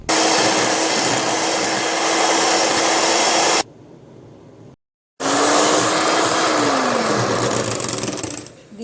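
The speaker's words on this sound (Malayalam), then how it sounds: "ഇനി നമുക്ക് ഈ എഗ് യോക്ക് നന്നായി ഒന്ന് ബീറ്റ് ചെയ്തെടുക്കാം" Electric hand mixer beating egg yolk for a floating island dessert, a loud steady motorized whir that stops briefly, goes silent, then starts up again and runs on.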